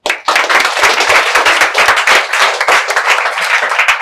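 A standing audience at a public speaking class claps loudly and close by, a dense burst of sharp, rapid hand claps that stays vigorous for several seconds.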